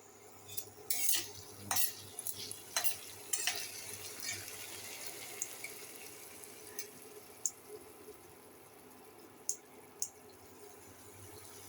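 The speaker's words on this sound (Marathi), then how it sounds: "हे टमाटे बटाटे हे परतून घेतले." Tomatoes and potatoes sautéing in a pan are stirred with a metal spoon, giving a run of clinks and scrapes against the pan over a faint, steady sizzle, close and quiet, thinning out to occasional taps.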